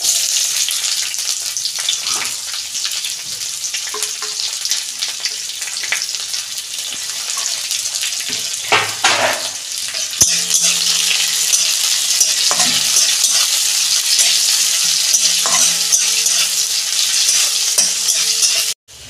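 Onions fry in a pan, a loud, continuous sizzle close at hand, broken by intermittent scraping and stirring strokes, with a brief knock near the end and no voices.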